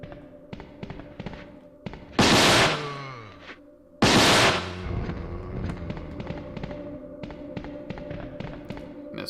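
Two heavy booming weapon shots ring out in Resident Evil 2, each with a long decaying tail, amid lighter clicking and tapping game sounds.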